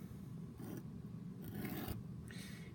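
Scissors cut a paper rectangle in quiet, close snips and slicing strokes, several short bursts of crisp shearing with brief pauses between.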